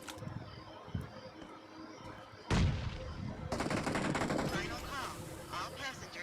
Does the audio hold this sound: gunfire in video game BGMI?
yes